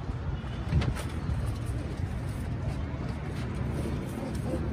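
Pigeons coo in a rooftop pigeon loft in Haram, Egypt, with soft repeated low calls under steady ambient noise and occasional background voices.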